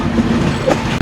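The Kapotaksha Express pulling out of Chuadanga railway station gives a brief loud rumble of rolling rail cars and wheels, close and continuous.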